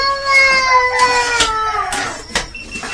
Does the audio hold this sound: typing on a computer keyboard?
no